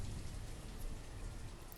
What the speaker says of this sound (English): It's already early winter and it's just rainy.